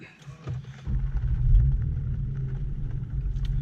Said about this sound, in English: So we're going to start this puppy up